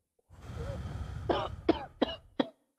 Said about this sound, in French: On la laisse tousser.